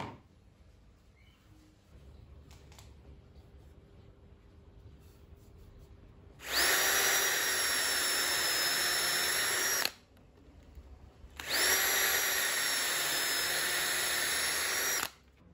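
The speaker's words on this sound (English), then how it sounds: "With all the dowel holes drilled," A power drill bores dowel holes into timber frame pieces for doweled picture-frame mitres, in two sustained loud whirring bursts of about three and four seconds separated by a short pause, alone in a quiet workshop.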